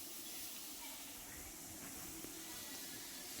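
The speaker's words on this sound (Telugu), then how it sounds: "అందుకని కొంచెం కొంచెం వేసుకొని ఫ్రై చేసుకోండి అంతే." Gulab jamun fry in hot oil with a soft, steady sizzling hiss that holds evenly throughout, fairly faint and with no talk over it.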